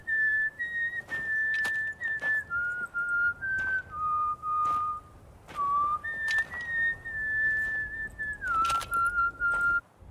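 A character in The Witcher 3 whistles a wandering tune alone, clear and fairly close, with short sustained notes that slide between pitches, broken by brief gaps and faint soft thuds.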